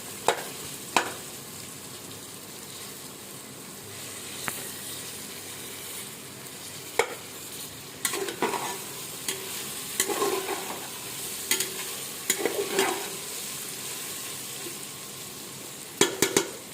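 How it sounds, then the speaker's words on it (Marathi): Beetroot being stirred with masala in a pan, scattered spatula scrapes and clacks over a soft low sizzle, with busier bursts of stirring in the second half, close and without speech. "आणि आता हे बीट असं मिक्स करायचं. ते मसाला सगळं परतायचा"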